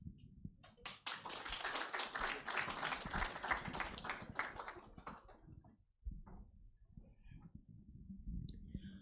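Audience applause at a sustainable building conference panel, a dense burst of many hands clapping for about five seconds, then tapering off into murmuring room noise and low voices.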